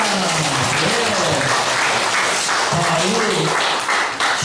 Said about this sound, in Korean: 그 사명 잘 이루시라고